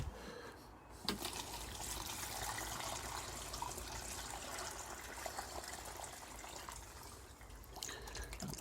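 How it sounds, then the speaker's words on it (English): Water soaks down through the soil of a potted tomato plant and drains out of the holes in the pot, a steady trickling and gushing that runs on without a break, close and alone with no voices. "That'll soak in, soak down, go out through the holes."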